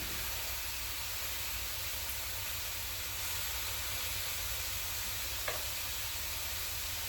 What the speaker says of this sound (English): We're going to go ahead and flip our beef pieces.